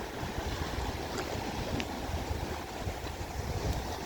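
Sea waves wash onto the beach at Prymorsk in Odesa region, a continuous rushing surf with low rumble and wind buffeting the microphone, steady throughout with no voices.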